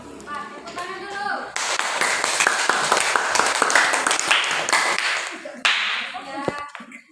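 A classroom of students claps in unison, loud rhythmic hand claps starting abruptly and continuing for several seconds, with voices talking and shouting before and after.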